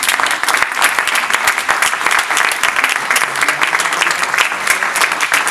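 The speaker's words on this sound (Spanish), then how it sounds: "Silvia Molloy y a Tamara Kamensain, a quien voy a pedir que les den un aplauso ya." An audience at a poetry reading applauds, a dense, steady wash of clapping that holds evenly throughout at close range with no voices standing out.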